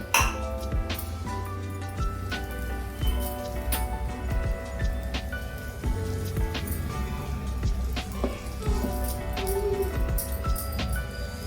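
Green gram (pesara pappu) uttapam batter sizzles in ghee on a pan, a continuous crackling hiss under light clinks and background music, with no talking.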